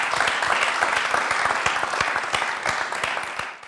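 A church congregation applauds during a gospel service, a continuous crowd of sharp hand claps with a bright wash of cheering noise, steady and full before easing slightly at the end.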